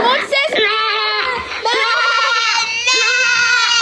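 A cartoon goat bleats in a children's alphabet lesson, with several drawn-out, wavering cries in a row. The bleats are loud and close and may be a voice imitating the animal.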